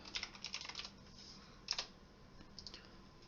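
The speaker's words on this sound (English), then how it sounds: "So the user is going to be typing in" Quiet clatter of typing on a computer keyboard while entering input for a Python program, with bursts of quick key clicks, a pause, then a few more taps.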